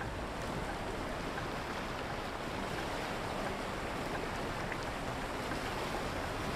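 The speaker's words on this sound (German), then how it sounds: "Schön, das Geräusch von Wasser" Soft ambient water in a bus-driving video game, a steady, faint wash like gentle surf or lapping waves with a light windy hiss, continuous and without voices.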